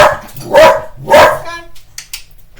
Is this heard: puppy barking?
yes